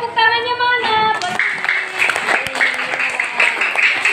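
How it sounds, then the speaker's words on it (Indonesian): Classroom of schoolchildren clapping together in a teacher-led round of applause, a lively dense patter that starts after a brief sung or spoken tone and carries on steadily to the end, with a few voices mixed in. "Ayo tepuk tangannya mana?"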